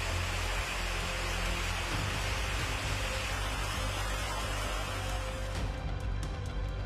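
Heavy monsoon rain pours in a steady, dense hiss of broadband noise, loud and unbroken throughout, with a faint low rumble beneath and no voices.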